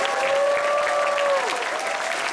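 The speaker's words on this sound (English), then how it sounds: "you guys need to give some applause to both Jeremy and Bob over here." A closing ceremony crowd at a convention gives applause to Jeremy and Bob, broad continuous clapping with a steady sustained tone gliding through it, no voices on top.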